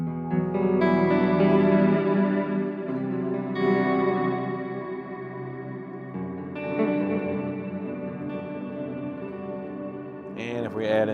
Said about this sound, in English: add in one of the Eventide verbs